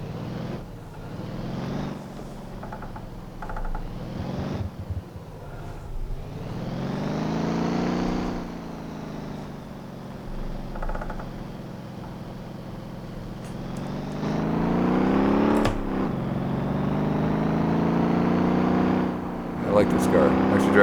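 Stock car with unmodified suspension driving in a video game, its engine droning and rising through revs and gear changes in long sweeps, with someone talking over it.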